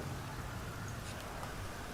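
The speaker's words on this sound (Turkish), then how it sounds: "Haziran'ın ortasında yağmur yağıyor." Rain falls in GTA Online on the streets of Los Santos, a soft, steady patter and hiss heard faintly throughout, with no voices.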